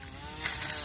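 A portable grass-cutting machine's small engine runs with a close, steady buzzing drone and a brief rise in revs partway through, with no talking.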